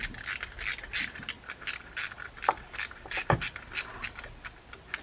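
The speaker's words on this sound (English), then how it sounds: "That's a little socket set I've had forever." A small socket wrench ratchets while a Penn SpinFisher 450 SSG fishing reel is serviced, giving a rapid series of close, crisp clicking bursts in an irregular rhythm, with a couple of sharper metallic knocks.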